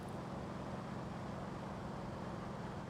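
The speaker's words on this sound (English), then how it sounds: "the engine sound is kind of playing there where the engine is" A car engine in the driving game Motor Town: Behind the Wheel drones steadily and fairly loud, holding an even low hum with no breaks and no voices.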